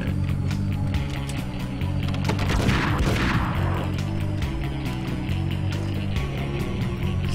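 Gunfire and breaking objects in the video game Max Payne, a dense burst of shots and crashes peaking midway over a loud continuous game background, with no voices.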